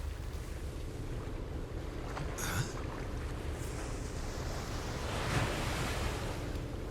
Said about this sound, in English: Yeah, it's the middle of the ocean, lady.